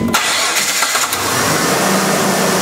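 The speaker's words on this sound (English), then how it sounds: "we're gonna turn on the engine" A car engine cranks and catches, then settles into a loud, steady idle close by.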